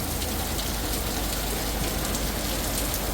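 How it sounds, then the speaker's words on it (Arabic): Heavy rain pours steadily during a storm with hail, a dense, continuous hiss of drops hitting surfaces close by, unbroken and even in loudness throughout. "صار مطر قوي وبرد"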